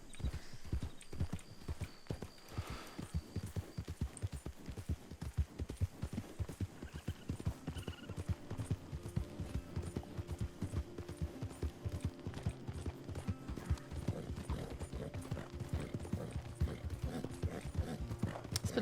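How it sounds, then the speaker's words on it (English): Steady horse hooves clip-clop in a quick, even rhythm in the video game RedM, continuing throughout with a low background hum and a brief whinny early on. "The riderless horse."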